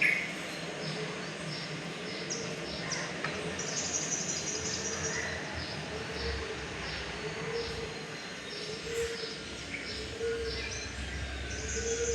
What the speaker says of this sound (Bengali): প্রচুর শোনা যায় পাখির ডাক।